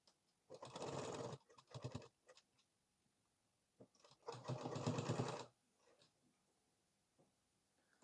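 A sewing machine stitches a 40-inch blouse in two bursts of rapid whirring, each about a second long, with faint clicks and handling noises in the quiet gaps between.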